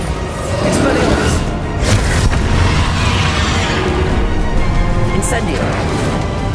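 A Bombarda blasting spell detonates in Hogwarts Legacy combat, a loud booming crash amid a dense, continuous wash of battle noise, with a voice calling spells over it.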